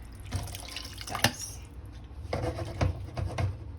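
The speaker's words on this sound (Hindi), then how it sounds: "ये इतना पानी डालें ये मछली डिप हो जाए, आलू पिघल जाए, मछली पिघल जाए।" Water poured into a pot of fish kofta curry with potatoes, heard as splashing, dripping and pattering bursts at an uneven pace, fairly close, with no talking.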